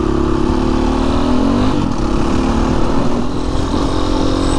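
A BHR 300 R Enduro motocross bike engine buzzes loudly and steadily throughout, its pitch dipping and climbing again as the throttle is worked, close up and with no talking.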